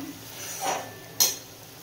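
Chicken bharta paste of ginger, garlic and tomato being fried and stirred in a pan, a soft sizzle under two short scraping strokes of a spoon, the second sharper and brighter, with no talking.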